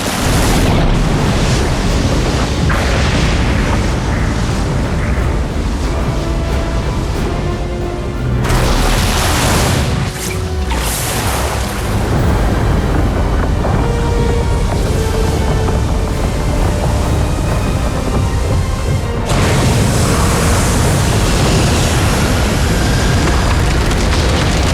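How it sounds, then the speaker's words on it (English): Lava bombs exploding at Mount Doom as water hits the lava, designed for The Rings of Power: a loud, continuous roaring wash of rumbling blasts and surging noise, alone and sustained throughout. "The water hits the lava in Mount Doom, and all of a sudden, like, this thing is exploding lava bombs everywhere."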